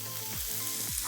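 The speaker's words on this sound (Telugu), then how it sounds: "తాలింపులో ఉల్లిపాయలు వేసిన తర్వాత అది వేగాలి" Sliced onions frying in a hot tempering oil with turmeric and curry leaves, a steady close sizzle with soft crackle and two scraping stirs of a spoon.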